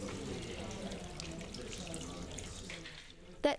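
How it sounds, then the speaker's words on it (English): A small water feature in a prison sensory garden in Auckland, New Zealand trickles with a soft, steady, quiet splashing, heard alone and ending with a brief sharp click. "That's the sound of a small water feature in a sensory garden"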